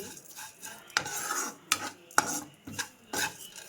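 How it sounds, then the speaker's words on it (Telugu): Vermicelli is fried in a pan and stirred for semiya sagubiyyam payasam, giving a quiet, soft sizzle. Repeated metal scrapes of the spoon against the pan come every half second or so. "సేమియా పెట్టాను ఇవి కొంచెం రెడ్ కలర్లో అవ్వాలి డీప్ ఫ్రై అవ్వాలి"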